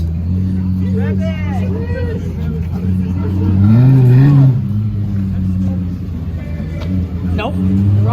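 A Lexus LFA engine revs loudly, its pitch rising and falling in a couple of swells, with people chattering close by throughout.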